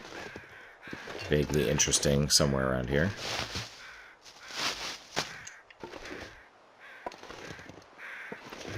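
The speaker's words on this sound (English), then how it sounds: "But I do hear birds." Crows caw repeatedly in the snowy wilderness of the survival game The Long Dark, harsh nasal calls under a voice as he talks over the game sounds.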